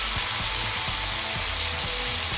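Loud, steady hiss of beef sizzling hard as it goes into a hot wok, with a rhythmic clanking of a utensil underneath.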